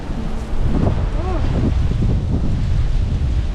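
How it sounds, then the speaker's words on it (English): Strong wind gusts buffet the microphone with a continuous roaring rush on a Hawaiian beach along the Kalalau Trail in late afternoon, and faint bird calls or voices sit underneath. "these wind gusts are kind of strong"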